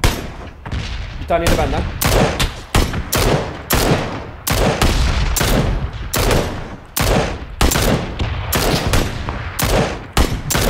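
Heavy bursts of automatic gunfire in the battle royale game PlayerUnknown's Battlegrounds, loud rapid volleys repeating in quick succession throughout, with a player's voice speaking briefly between shots.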